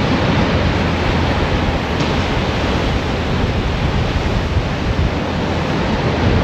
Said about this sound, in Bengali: সমুদ্রের ঢেউগুলো আছড়ে আছড়ে পড়ছে সেটা দেখছি